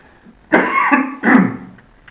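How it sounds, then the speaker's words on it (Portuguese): Two harsh coughs in quick succession, close and loud, with no talking around them. "eu ainda estou com tosse"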